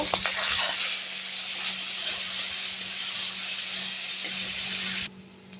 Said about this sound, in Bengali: লবণ হলুদ মাখা চিংড়ি মাছ, সেটা আমি ভেজে নেব